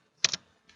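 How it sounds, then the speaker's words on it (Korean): A single Enter key press on a computer keyboard, a crisp close double click followed by a faint tap, alone in near silence. "엔터 치시고"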